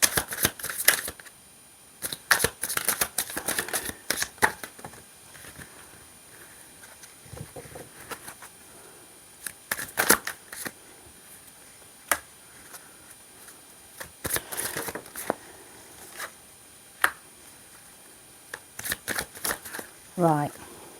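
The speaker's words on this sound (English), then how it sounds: "I'm just doing a 9 card spread" Tarot cards are shuffled and laid out in a nine-card spread, with quick flicks and soft snaps of card stock arriving in scattered bursts, heard close and moderately loud while a person talks.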